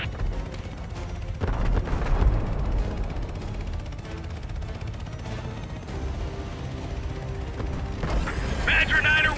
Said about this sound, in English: we are taking heavy fire from all sides!